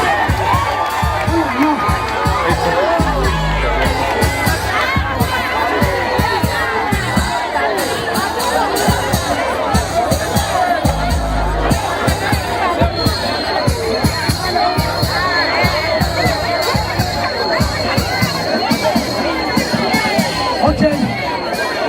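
A loud crowd cheers and shouts continuously, with excited voices and whistles blending into a dense, energetic roar that never lets up.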